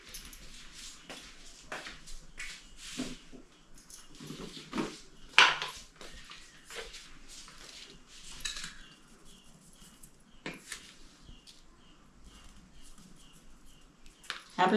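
A spoon scrapes and taps against a vessel while dosa batter is stirred for a Davangere sponge butter dosa, soft irregular clinks and swishes, fairly quiet, with a few sharper knocks and no speech.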